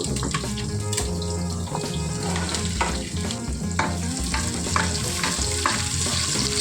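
Onions, curry leaves and chopped vegetables sautéing in oil for kadamba rice, giving a loud continuous sizzle and crackle with occasional stirring taps, close up.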